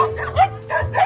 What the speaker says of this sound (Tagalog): Napakaraming aso.